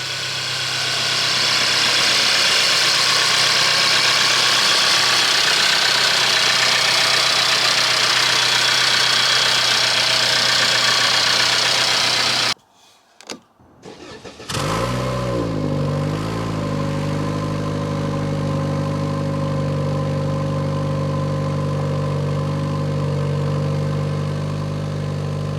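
Cold-start idle of a Mercedes engine, first heard as a loud rough roar, then after a brief silent gap a steady, smoother low-pitched hum with a wavering tone, close and continuous without talk.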